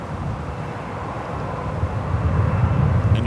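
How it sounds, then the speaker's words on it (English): A United Airlines Boeing 777-300ER jet bound for Newark at San Francisco airport gives a loud, steady broadband roar that grows stronger toward the end, with no voices. "the United Airlines Flight 2209, the 777 at 300ER, heading to Newark"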